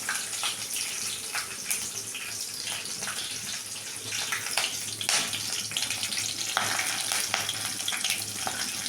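Mustard seeds, chana dal and a halved green chili fry in hot oil, giving a steady, fairly loud crackling sizzle with scattered sharper pops throughout.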